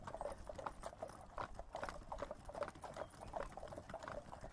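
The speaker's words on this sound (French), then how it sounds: "avec les bruits de chevaux et tout" Horse hooves clip-clop in a steady trotting rhythm, played as a sound effect during a tabletop role-play session, soft and even with light background noise and no talking over it.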